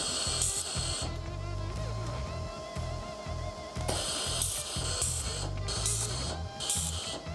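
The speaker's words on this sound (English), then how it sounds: "let's tack weld this" Tack welding a steel folding blade with carbon steel filler wire: a steady crackling, hissing arc runs throughout at close range, with several short bright bursts of sharper spatter toward the end.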